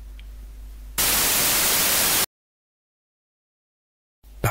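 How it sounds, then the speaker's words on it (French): A white noise test signal, loud broadband hiss covering the whole range evenly, runs for about a second and a half before cutting off abruptly into silence. "Le bruit blanc, tout d'abord, est un bruit complètement aléatoire"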